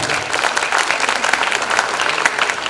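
An audience at a church gathering claps for a bishop, a close, dense patter of many hands that runs steadily without pause.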